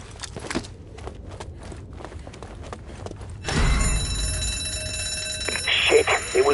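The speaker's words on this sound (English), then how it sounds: "it was rigged to the alarm." In a zombie survival video game, an alarm goes off after footsteps, and a loud continuous electronic ringing starts midway and keeps going, with a few extra bursts near the end.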